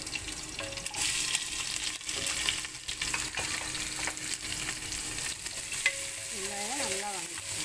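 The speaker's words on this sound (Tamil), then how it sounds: "வெங்காயம் வதங்கிடுச்சு." Chopped onions and garlic sautéing in a pan for Kongu-style paruppu sadam, a steady close sizzle with scraping stirs and a brief clink of a utensil near the end.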